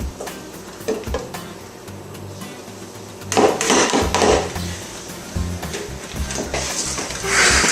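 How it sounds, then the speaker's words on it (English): Stirring dry ingredients into a creamy butter and sugar mixture in a bowl for chocolate chip oat cookies, with repeated close scraping and knocking of a spoon against the bowl, growing busier midway, a low hum underneath. "you are going to stir them into your more creamy butter sugar mixture"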